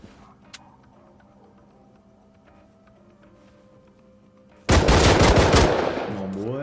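Pistol fire in Rust Console Edition erupts suddenly after a quiet stretch, a loud, close burst of rapid shots that rings on to the end.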